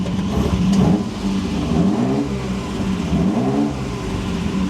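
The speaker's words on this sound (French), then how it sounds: "Petit coup d'accélération, on est parti." Engine of a Ferrari 250 GTO replica revving up, loud and close, a throaty mid-pitched roar rising and falling through several pulls.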